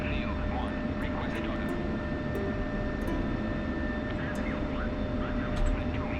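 An F-16C Viper jet engine in a DCS flight simulator, a steady loud turbine roar with a high whine, droning evenly under the pilot's talk.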